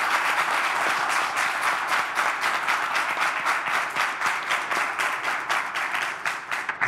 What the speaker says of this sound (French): Merci d'applaudir et d'accueillir comme il se doit Amir El Presidente.